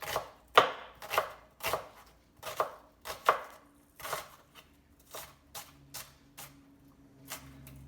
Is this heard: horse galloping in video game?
no